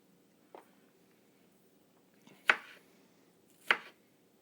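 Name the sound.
chopping green onions with a knife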